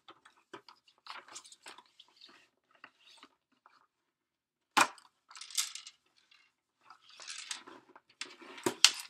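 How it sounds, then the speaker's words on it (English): A fringe cutter with loose blades rattles inside, giving faint scattered clicks and light taps, then louder bursts of rattling and shaking close by, with no talking. "Which is a fringe cutter. And I hear something rattling."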